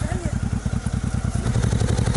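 A Honda enduro motorcycle idles up close on a mountain road in Spain, its engine thumping in a fast, even rhythm, with a voice briefly over it.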